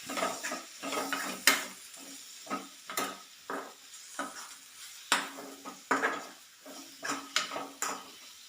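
Spoon scraping and stirring a thick curry with garam masala in a pan, rhythmic scrapes and clatters against the metal over a light sizzle, close and fairly quiet, no talking.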